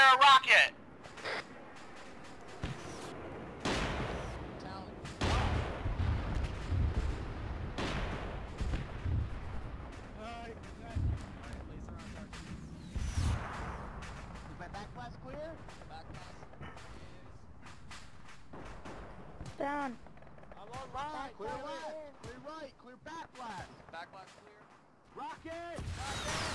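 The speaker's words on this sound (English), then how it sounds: "We're trying to fire a rocket!" Rocket launch in Arma 3 with the OPTRE mod, a heavy booming blast among repeated gunfire cracks and thuds during a chaotic firefight, with voices shouting over the combat.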